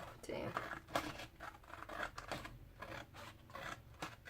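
Scissors cutting a paper gift box shape out of card stock, with close, uneven snips and rustling that run through the clip under soft, low talk.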